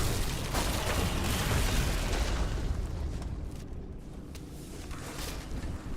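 A big explosion in Diablo III, Necromancer campaign, erupts as a loud, broad rumbling blast with crackling debris that slowly decays across several seconds.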